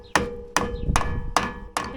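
Five sharp plastic hammer taps land at even intervals on a Jeep part, each a crisp hollow knock with a short ring, close up and alone.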